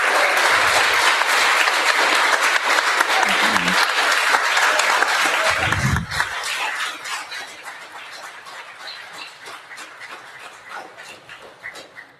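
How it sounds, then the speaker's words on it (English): Audience applause at a League of Women Voters candidate forum in Ottumwa, loud and dense for about six seconds, then thinning and tapering off into scattered claps. "Can we give them a round of applause, please?"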